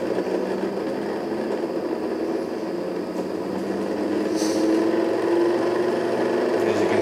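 A pulse motor runs steadily on its own, giving a continuous mechanical whir with a faint rising tone. It holds an even loudness throughout and sounds close by, with no talk over it.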